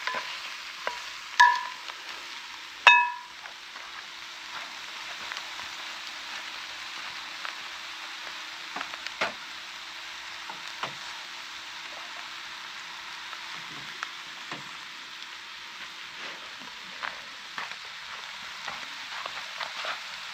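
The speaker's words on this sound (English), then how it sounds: "Chuck the sausages back in. Same deal, just give them a bit of a mix through all that." Sausages for curried snags sizzle and get stirred through in an outdoor pan, a steady soft frying hiss broken by a few sharp scrapes and clinks near the start, no talking.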